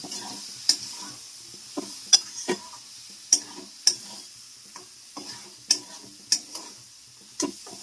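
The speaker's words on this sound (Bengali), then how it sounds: "এবার এই মশলার সঙ্গে ভালো করে আমি সাঁতলে নেব।" Boiled soybeans and chana dal fry with spices in a pan, giving a soft steady sizzle broken by sharp spatula taps and scrapes at irregular intervals.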